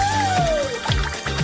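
Juice runs from a special tap into a glass in a kitchen-trick challenge, a steady liquid pour heard up close over a tonal musical background.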